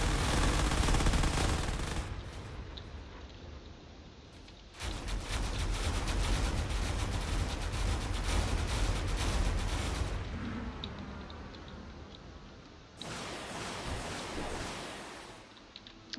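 Secondary turrets in a space combat video game fire steadily at incoming fighters, giving dense, sustained bursts of rapid gunfire that cut out and resume, loud and up close, with no talk.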